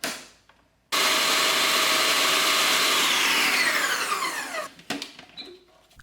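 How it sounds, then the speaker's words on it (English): Countertop blender whirring through parmesan, salt and panko breadcrumbs, a sudden loud close roar that runs steadily for about four seconds, winds down in pitch, then stops with a few clunks. "Give that a good blend until everything is evenly combined and mulched."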